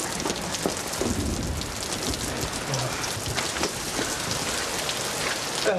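Steady rain pouring down outdoors, a loud, continuous hiss of drops spattering on surfaces with occasional heavier splashes and no talking.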